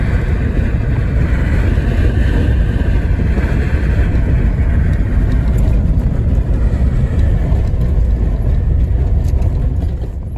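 A junk removal truck rolls up to a dump: a steady, loud engine rumble with road and cabin noise that holds throughout, easing slightly at the very end, with no talk.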